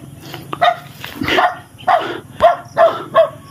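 A dog barks in a Filipino aswang horror game, giving a run of sharp, loud, close barks in a steady rhythm.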